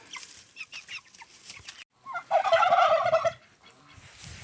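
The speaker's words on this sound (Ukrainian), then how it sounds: "Ось у нас одна індичка і три індики." Turkeys, one hen and three toms, gobble close by in a loud, rapid burst, with softer clucks and calls from fowl before and after.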